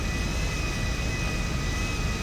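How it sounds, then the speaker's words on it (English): A plane taxis in a video game flight simulator, giving a steady, loud, continuous engine drone with a constant whine on top, without talking. "It does not want to turn at all. This is like the worst turning plane."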